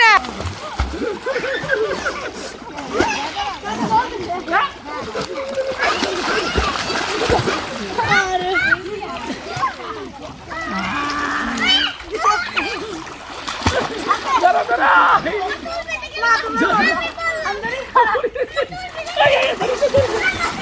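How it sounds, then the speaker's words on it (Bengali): Children splash about in a river, with repeated loud slaps and sprays of water up close, mixed with constant excited chatter and shouting from several kids over the whole stretch. "ছিটাস না ছিটাস"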